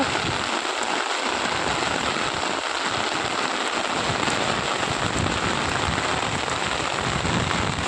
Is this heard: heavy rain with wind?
yes